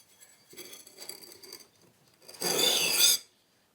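A knife blade is drawn over a sharpening stone in soft, close rasping strokes, followed by one louder, sustained grinding pass before it stops.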